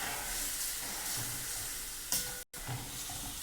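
Mango curry being tempered in a hot pan gives a steady close sizzle and frying hiss with stirring scrapes, briefly cutting out near the end before resuming.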